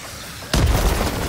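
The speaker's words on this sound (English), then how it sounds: "throwing grenade!" A grenade detonates in the co-op shooter Helldivers, one sharp, loud blast that cuts in suddenly and leaves a rumbling, noisy tail over the following second.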